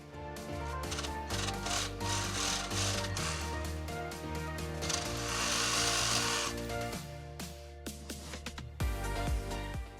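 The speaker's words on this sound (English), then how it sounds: "I'm just using a DeWalt Sawzall with a metal blade" A DeWalt Sawzall with a metal blade cuts steadily for about ten seconds, its fast reciprocating rasp fairly faint and continuous with small jolts near the end, and no one speaks.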